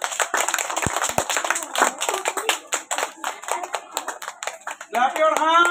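A room of Class 1 schoolchildren claps for the first, second and third place winners, a dense run of sharp, close hand claps mixed with voices, and a voice rising clearly at the end.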